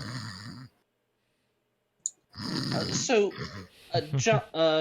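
A voice imitates loud snoring in a tabletop role-playing game session: a rasping nasal snore, a pause of silence, a short click, then a burst of snorting and sighing sounds at close range.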